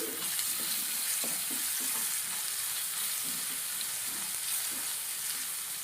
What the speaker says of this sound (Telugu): గరం మసాలా ధనియాల పొడి వేసి బాగా కలుపుకోవాలి